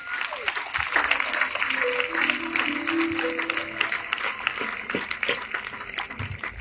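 A church congregation claps and cheers in praise, a sustained dense wash of applause and voices throughout, with raised singing or shouting tones rising over the clapping.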